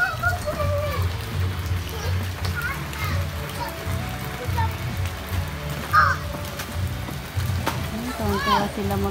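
Rain patters steadily on surfaces outdoors while children play and bathe in it, their excited voices, shouts and squeals rising over the continuous wash of falling water.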